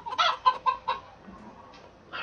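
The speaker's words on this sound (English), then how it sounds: "Let's pull out the corn for this chicken." Chicken clucks from The Road to El Dorado, a handful of close, loud, bursty calls in quick succession with a short pause and one more call at the end, no talking.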